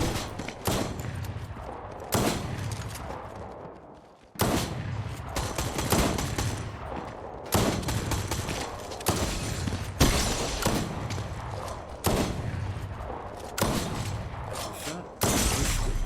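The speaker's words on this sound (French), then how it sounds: "Oh là, ça tire." Rapid bursts of gunfire in the video game Fortnite, loud and dense, coming in repeated volleys broken by abrupt cuts, with a voice faintly mixed in.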